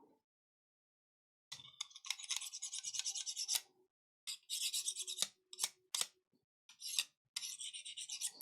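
A paint scraper works at stubborn glue, making short, quiet raspy scrapes in irregular bursts separated by brief silences.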